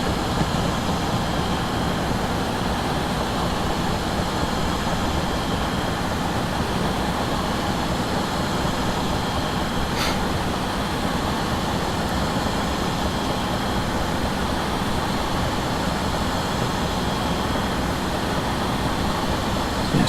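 Steady, continuous rumble of a train running at speed along the South Wales coastal fast line between Taunton and Cardiff in Train Simulator, with broadband wheel and rail noise holding even throughout and one brief sharp click midway.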